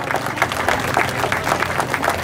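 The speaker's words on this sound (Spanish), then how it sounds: "un aplauso para despedirla" An audience at a museum anniversary celebration claps to send off an honored local citizen, a short burst of dense, even applause at moderate loudness.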